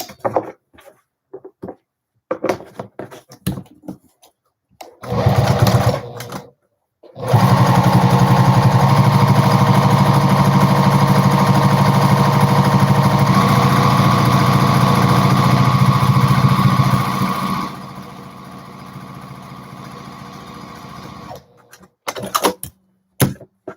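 Juki TL-2010Q sewing machine stitching a fabric keyfob, a steady mechanical whir that runs continuously for about ten seconds, then drops to a softer hum before stopping, with brief bursts of stitching at the start and end.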